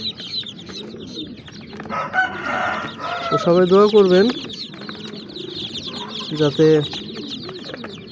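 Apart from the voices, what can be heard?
chicks of aseel and native chickens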